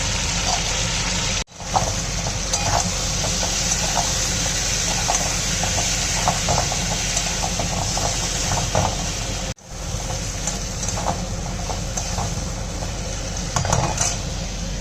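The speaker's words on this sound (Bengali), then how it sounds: "আমি এটার মধ্যে নুন, হলুদ, কাশ্মীরি রেড চিলি পাউডার সব দিয়ে ভাজতে শুরু করে দিয়েছি" Spice paste with salt, turmeric and Kashmiri chili powder frying in a pot, a continuous loud sizzle and hiss under a low steady hum, with occasional scraping stirs and metal clinks; two brief cutoffs interrupt it.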